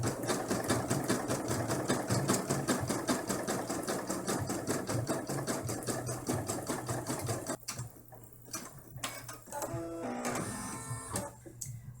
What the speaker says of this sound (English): we will now be doing the pink satin stitching around the top edge of the roof